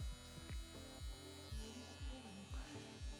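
An electric hair trimmer works through a barber cut, giving a close, quiet, continuous buzz broken by a regular series of soft low thumps, with no talking.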